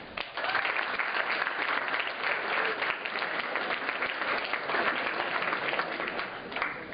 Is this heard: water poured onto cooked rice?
no